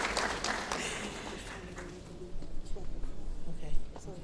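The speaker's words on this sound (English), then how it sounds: "We're going to give a round of applause for Lene." Audience applause at a graduation ceremony, a broad wash of clapping that starts strong, dips slightly, then swells again toward the end amid the murmur of the crowd.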